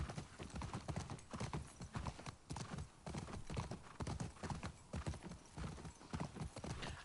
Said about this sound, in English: it doesn't allow me to drive the horse until she gets on it